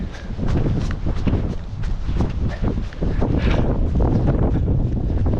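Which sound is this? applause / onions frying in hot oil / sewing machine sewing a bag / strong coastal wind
strong coastal wind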